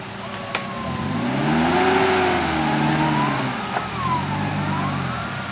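A heavy off-road 4x4 engine revs up and down during an off-road event in an Aceh forest, its throaty exhaust note rising and falling loudly and close by.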